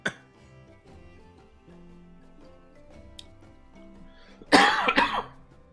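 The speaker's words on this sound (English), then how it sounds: "So sorry, I apologize for coughing." A single person coughs in a few harsh bursts near the end, close to the microphone, after a quiet stretch with a short throat sound at the start.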